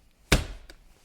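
A single sharp knock on the front door panel of a Jeep Grand Cherokee WK being sound-deadened, a close thud with a short ring, followed by two faint taps.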